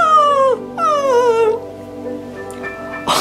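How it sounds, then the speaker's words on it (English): A dog lets out two long, loud, falling howls or whines close by, each with a wavering pitch, followed by quieter trailing whimpers. "I heard my dog go,"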